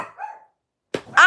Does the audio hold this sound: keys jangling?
no